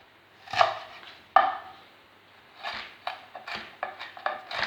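A knife chops onions for Jamaican curry chicken back in a run of close, crisp strokes: two heavy cuts, then a quicker uneven series, with no talking.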